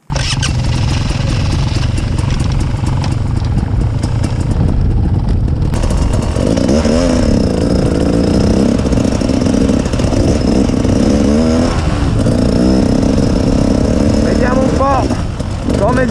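A Beta X-Trainer two-stroke enduro motorcycle being ridden: its loud, raspy engine drones close and continuously, the revs climbing and dropping repeatedly as the bike moves along.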